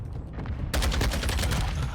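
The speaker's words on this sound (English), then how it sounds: "They're shooting at me." Sustained burst of automatic gunfire erupts suddenly in a Modern Warfare 2 Ground War match, loud, dense rapid shots over a low rumble after a brief quieter lead-in.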